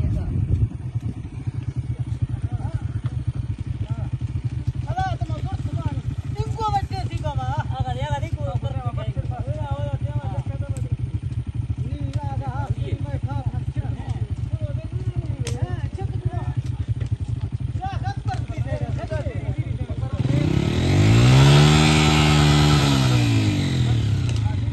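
A motorcycle stuck on rough mountain terrain in the Koh-e-Suleman area runs its engine steadily under continuous nearby talk, then revs hard in one loud rising and falling surge near the end.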